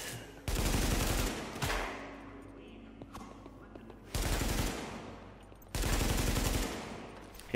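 Sustained automatic weapon fire in the shooter game The Division: three long, loud bursts of rapid shots separated by short pauses, with game sounds and faint voices beneath.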